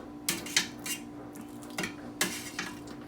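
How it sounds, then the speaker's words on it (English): A metal spoon scraping and clinking against a pot while skimming fat off gelled Chinese soup stock, several separate light taps and scrapes at an irregular pace, close and fairly quiet. "utilizing a spoon, we're going to pull the fat off the top"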